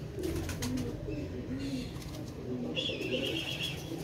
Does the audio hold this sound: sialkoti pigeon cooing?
yes